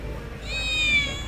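A single drawn-out cat meow from Final Fantasy VII Remake rises and falls, clear and fairly close, over a quiet low background hum.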